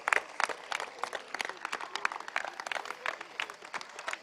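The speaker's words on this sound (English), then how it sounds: "please give us a big applause for this great guy" Dense, moderately loud applause from a crowd at a football event, honoring a long-serving coach at a Euro U19 Denmark vs France gathering. Rapid overlapping claps continue steadily without pause.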